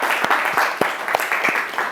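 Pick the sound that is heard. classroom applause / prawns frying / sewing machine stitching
classroom applause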